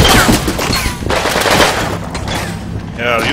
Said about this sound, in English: Yeah, use that Thompson.